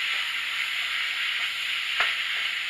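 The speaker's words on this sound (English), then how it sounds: "I'm going to go ahead and keep on mixing this up" Seasoned ground beef being stirred in a frying pan for taco plates, giving a steady, close sizzle that runs without a break, with a faint scrape of the utensil near the end.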